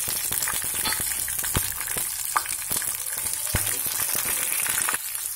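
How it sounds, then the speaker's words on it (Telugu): Curry leaves and green chillies go into hot tempering oil for semiya upma and set off a steady, close sizzle of frying, with scattered crackles and pops throughout and no voices. "ఇప్పుడు కరివేపాకు, పచ్చిమిరపకాయలు కూడా వేసుకుందాం"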